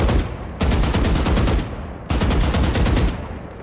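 Sustained full-auto gunfire from holding the fire button in Valorant: two loud, close sprays of rapid, evenly spaced shots, each lasting about a second and a half, separated by a brief pause.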